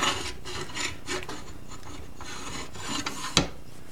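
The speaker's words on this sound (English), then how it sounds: "I think it's ready for some sanding." Quiet rasping strokes of 220-grit sandpaper rubbing on a wooden pen, repeated in an uneven rhythm, with a sharp knock near the end.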